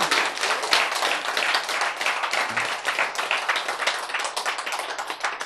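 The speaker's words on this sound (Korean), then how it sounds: "박수!" Audience applause at a lecture hall talk, a steady dense wash of many hands clapping at close range, continuing evenly throughout without voices over it.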